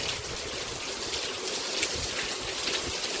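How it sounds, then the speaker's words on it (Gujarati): Heavy rain pours down on a farm field planted with groundnuts, a dense, steady wash of water that stays loud and even throughout with no voices. "વરસાદ એટલો ચાલુ છે"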